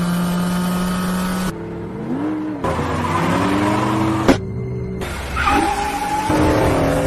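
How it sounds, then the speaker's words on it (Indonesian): A black Dodge Challenger's engine roars past at speed, with rising and falling tones and a brief tire squeal, loud and close, cutting in and out between passes. "mobil Dodge Challenger berwarna hitam yang melaju kencang"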